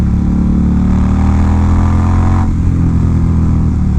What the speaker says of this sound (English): This thing will jump 20 miles an hour with one flick of the throttle in a millisecond